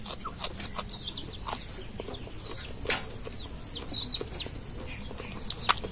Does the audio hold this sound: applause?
no